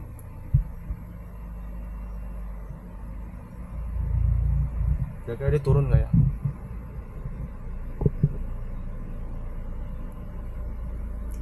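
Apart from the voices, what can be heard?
car radiator fan and air conditioning running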